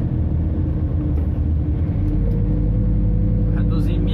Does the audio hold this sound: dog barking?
no